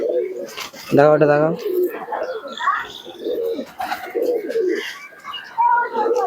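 Several teddy pigeons coo loudly nearby with throaty, rolling calls, one strong burst standing out early, while someone talks briefly over the birds.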